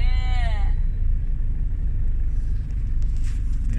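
Steady low rumble of cars idling and creeping in stalled road traffic, continuous and close, with a brief high whistling tone near the start.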